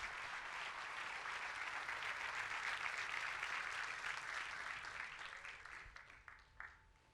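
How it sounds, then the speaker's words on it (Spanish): A church congregation applauds at a sermon by Pastor Ángel Caputo: broad, steady clapping from many hands fills the room, holding for several seconds before thinning out and fading toward the close. "Dele un fuerte aplauso a Dios."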